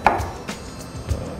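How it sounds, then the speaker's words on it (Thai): A knife chops vegetables into small dice on a cutting board while spring rolls and tuna tartare are being prepared, giving three separate, fairly soft thuds spaced about half a second apart, close by, with no talking. "โอเคอันนี้เราจะหั่นแล้วก็ต้องผ่านะครับครึ่งนึงเพื่อจะได้เป็นสี่เหลี่ยมเต๋าเล็กๆนะครับ"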